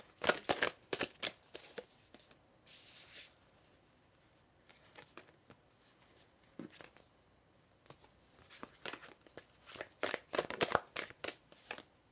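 Oracle cards are shuffled by hand in bursts of crisp riffling and flicking, with a busy run at the start, sparse taps and slides in the middle, and a dense flurry near the end, close and fairly quiet.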